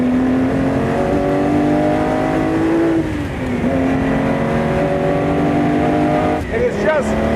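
A sports car engine revs hard and steadily, its pitch climbing and holding, then briefly dropping before rising again; loud and close, with another short rev near the end.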